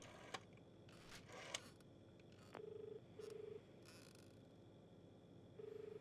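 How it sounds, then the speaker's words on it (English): A faint telephone tone sounds in the video game Cartel Tycoon, short steady beeping pulses repeating with gaps between them, accompanied by a few soft clicks and a low background hum. "The dial tone hums, then cracks"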